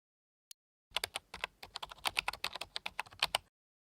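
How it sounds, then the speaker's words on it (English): Quick keystrokes on a computer keyboard, typing a prompt into an AI image generator, a steady burst of close clicks lasting about three seconds after a single brief tap. "Next, type your prompt in the prompt box."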